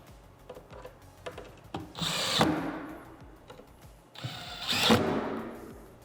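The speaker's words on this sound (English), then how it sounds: "just go around and just get all these wood screws fastened" A power drill drives wood screws into a wooden box in two sustained whirring bursts, each rising and then stopping, with small knocks and handling sounds between them. The sound is close, moderately quiet and without speech.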